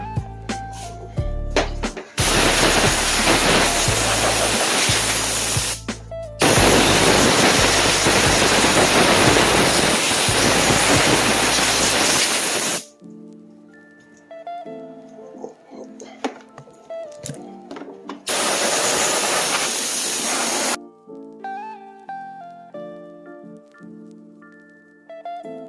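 Compressed air blasts through the engine bay of a Honda S2000, a loud, steady broadband hiss in several long bursts, broken by pauses where background music plays.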